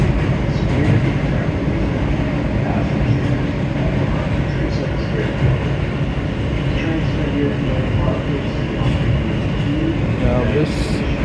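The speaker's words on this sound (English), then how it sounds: "Now this equipment we're on, I believe, is a R160." Interior of an R160 subway car running on the BMT line between Brooklyn and Manhattan, a steady loud rumble with rail noise and faint clatter throughout, plus occasional voices underneath.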